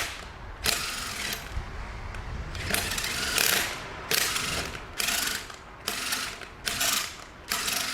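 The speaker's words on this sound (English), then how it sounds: "Now what we need to do is just check it with the bolt. So I'm just going to run it in and out." A ratchet running a bolt in and out of a threaded hole on a Toyota engine during an engine replacement: repeated bursts of loud clicking, each about a second long with short pauses between.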